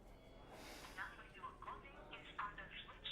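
A phone call goes to a switched-off number, and a thin, tinny recorded voice speaks over the line with a faint hum behind it.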